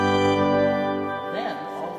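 The pipe organ at St. Paul's Church in Greenville, North Carolina, sounds a loud, full sustained chord that cuts off after about a second, followed by someone speaking in the church.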